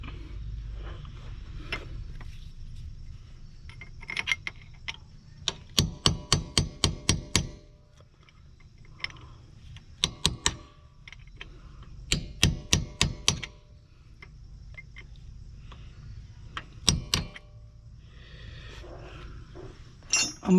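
Hammer blows punching out the passenger-side axle on a Scion FR-S / Subaru BRZ / Toyota GT86, sharp metallic strikes in quick bursts of several hits separated by pauses, close and loud over a quiet garage background.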